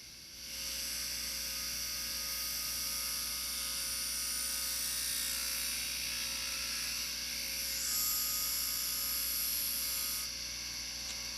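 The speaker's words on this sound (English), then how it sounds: "it saves a lot of time if you have a grinder" A power grinder cuts a channel into a handmade gripfid, a ply-splitting tool, with a steady high-pitched whine held close and loud for about ten seconds, pitch shifting slightly near the end.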